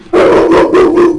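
A single loud, drawn-out bark or bay from a nearby dog lasts about a second, wavering in pitch, with no other sound around it.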